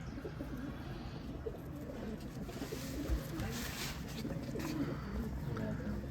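Pigeons on a rooftop in Islamabad coo in low, murmuring calls against a steady background hum, with faint rustling throughout.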